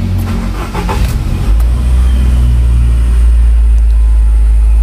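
Nissan Grand Livina engine cranking briefly with a cold start, then catching into a steady, loud idle rumble close by, with no talking.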